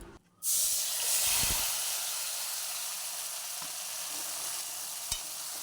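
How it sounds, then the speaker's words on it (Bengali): Dalia dropped into hot oil tempered with dry chili and cumin, bursting into a loud sudden sizzle that settles into steady close frying hiss with a faint clink near the end. "প্রথমে তেলের মধ্যে একটু শুকনো লঙ্কা আর জিরে ফোড়ন দিয়ে নিয়েছিলাম তারপরে ডালিয়াটা দিয়ে দিয়েছিলাম"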